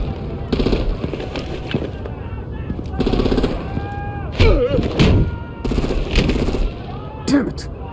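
Gunfire and artillery in the Batman: The Enemy Within video game, loud bursts of rapid automatic fire and heavy booming blasts in clusters, with shouted voices speaking between and over the shots.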